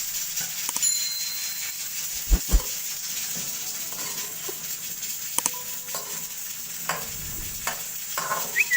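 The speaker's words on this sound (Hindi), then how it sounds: "इस तरह हल्का सा फ्राई करके आलूओं को घी में या ऑयल में, तो मैं ज़रा सा फ्राई कर दूँगी" Potatoes fry lightly in ghee or oil for aloo gosht, a steady soft sizzle and hiss running throughout, broken by a couple of louder clunks and occasional clinks of stirring utensils against the pan.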